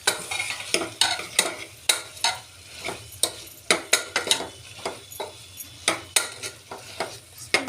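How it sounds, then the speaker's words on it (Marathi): A spoon stirs spices and red chilli powder into veg pulav in a pan, scraping and clinking against the metal in a steady rhythm of repeated strokes over a soft sizzle. "अर्धा चमचा मसाला पावडर टाकूया आणि एक चमचा लाल तिखट आता हे आपण हलवून घेऊया"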